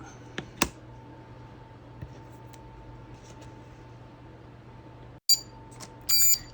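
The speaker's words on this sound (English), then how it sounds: "And our timer just went off." A kitchen timer beeps during paper crafting, a short bright electronic beeping that starts suddenly near the end over a quiet room with a steady low hum and a few soft clicks.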